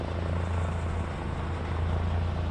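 A steady low rotor drone from an aircraft passing at a distance, constant and unbroken throughout.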